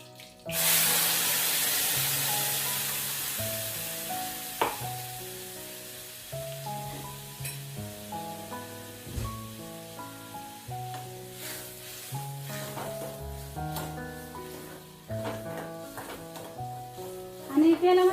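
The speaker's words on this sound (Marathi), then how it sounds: "आता आपण त्यामध्ये वाटण व्यवस्थित फ्राय करून घेऊ तेलामध्ये" Ground spice paste fries in hot oil for a spicy sprouted moth bean curry, with a soft sizzle and a few stirring scrapes under loud background music.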